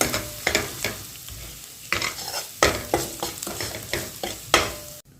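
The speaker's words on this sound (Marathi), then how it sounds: "मसाला भाजून द्यायचा" Masala spices roast and sizzle in oil in a hot pan while a spatula scrapes and stirs in quick, repeated strokes, close and fairly loud.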